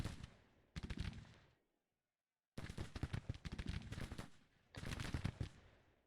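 Soldiers fire in a Civil War battle game, bursts of rolling musket volleys crackling in dense clusters with a short silent gap between them, loud and close.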